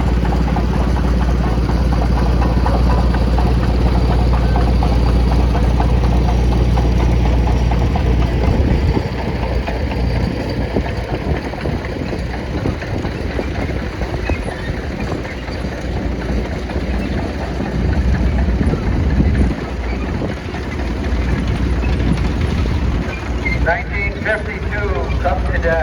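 Seven-horsepower Cadet tractor engine idling and running steadily at close range during a pioneer steam and gas engine society tractor parade, a continuous low rumble with people talking in the background.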